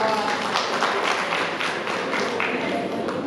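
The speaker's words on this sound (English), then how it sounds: "A big round of applause for" Steady applause from a conference crowd at a women's agribusiness event, a dense continuous wash of many hands clapping that fills the whole stretch, with a few voices mixed in.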